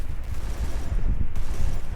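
Gunfire in the Free Fire video game during a training session, with dense, continuous rapid shots that merge into a steady low rumble and carry no speech.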